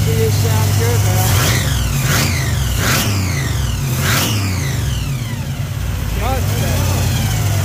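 A supercharged Chevy 383 small-block V8 in a third-generation Camaro IROC Z28 idles with a heavy, lumpy rumble, then revs up sharply four times in quick succession. A voice speaks briefly over the engine.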